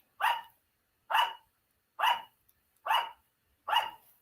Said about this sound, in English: The dogs at the patio.